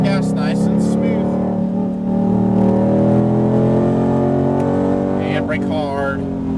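A Ford Mustang Shelby GT500 accelerates on a track, its loud engine holding a steady, rising drone up close inside the car while an instructor talks over it.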